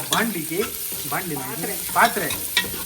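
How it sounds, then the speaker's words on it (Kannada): Onions frying in oil in a cooking pot for a country chicken curry, a steady close sizzle broken by repeated stirring scrapes. "ಪಾತ್ರೆಗೆ ಎಣ್ಣೆ ಹಾಕೊಂಡು ಸ್ವಲ್ಪ ಈರುಳ್ಳಿ ಹಾಕೊಂಡು ಹುರ್ಕೋತಾವ್ರೆ"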